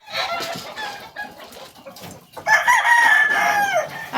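Farm chickens at winter feeding time cluck and squawk close by, and a loud rooster crow rises in the second half over the busy flock.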